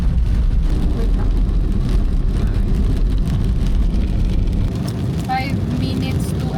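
Heavy rain drums steadily on a car moving along a road in the Philippines near Sorsogon, a dense continuous wash with low road rumble underneath, easing slightly toward the end as faint voices briefly come through.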